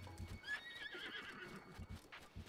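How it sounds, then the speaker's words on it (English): Horse in The Legend of Zelda: Breath of the Wild gallops with quick hoof clip-clops and a brief high whinny, running near water at a beach, fairly quiet over game ambience. "Sounds like his horse is running into the water."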